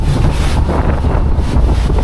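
Strong mountain wind gusting hard against a motorcycle tent, a loud, continuous roaring buffet of rumbling wind noise battering the microphone throughout.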